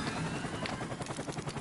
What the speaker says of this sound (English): I cannot see that helicopter